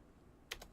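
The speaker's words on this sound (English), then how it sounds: "if I could type it in right." A couple of quick computer keyboard keystrokes, a short close double tap against a quiet room.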